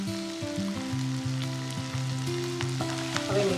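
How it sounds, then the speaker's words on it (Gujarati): Chopped vegetables sautéing in a hot pan for hotel-style macaroni pasta, a steady loud sizzle and crackle throughout with no talking. "આ બધા જ વેજીટેબલને આપણે અધકચરા ચડવી લેવાના છે"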